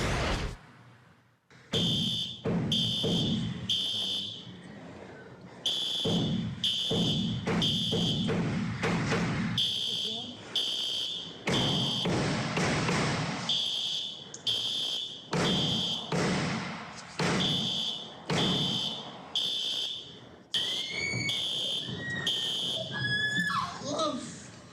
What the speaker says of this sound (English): When we heard those alarms inside of this courtroom